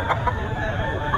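Gamecock stag clucking in a busy rooster yard, short soft clucks at a steady loud level under a general murmur of people nearby.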